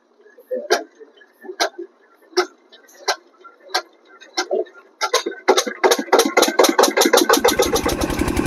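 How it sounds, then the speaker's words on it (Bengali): A lentil grinding machine for soaked dal, starting up with sharp separate clicks that come closer and closer together until they merge into a steady mechanical hum with a rhythmic clatter, loud and close. "এটা হলো ডাল পেশাই করার মেশিন"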